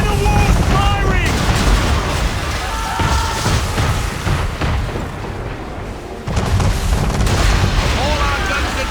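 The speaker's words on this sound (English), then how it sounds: "We're under attack! Man of war's firing!" A warship, a man-of-war, fires its cannons in Assassin's Creed III with heavy, booming blasts and rumbling explosions; shouting voices cut in over the loud, continuous battle noise.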